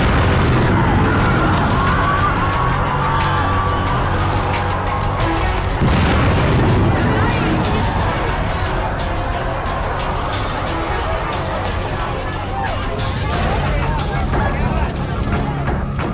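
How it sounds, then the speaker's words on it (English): Natural gas condensate tank cars explode at a gasoline plant, a continuous loud roaring blast and rumbling fire that stays dense and powerful throughout, with heavy low booming beneath crackling noise. "The explosion splashed flaming gasoline across the plant grounds and onto surrounding buildings."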